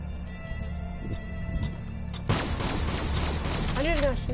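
Gunfire in a zombie video game, a low humming game backdrop with a few faint thuds, then a sudden dense rattle of shots that keeps going to the end, with a voice talking over it.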